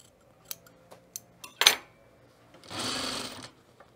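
Scissors trim batting while a puffer vest is being sewn: a few quick snips and clicks, one sharper metallic cut, then a longer rough rustling scrape of the cutters through the padding, close up.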